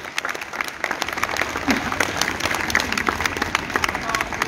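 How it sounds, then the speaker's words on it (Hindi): Children and an audience at a stress-management session clap continuously at close range, with individual sharp claps standing out in a lively, uneven rhythm. "तालियां बजती रहे जो आते जा रहे हैं"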